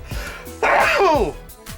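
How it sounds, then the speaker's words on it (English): A single loud sneeze bursts out mid-clip with a sharp intake and explosive release, surrounded by brief indoor vocal sounds while trading cards are opened. "I sneezed away from the cards"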